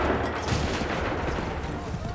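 Musket volley gunfire in an Assassin's Creed 3 cutscene: dense, overlapping rifle shots crackle continuously and loudly throughout, with a muddled battle din and shouted voices mixed underneath.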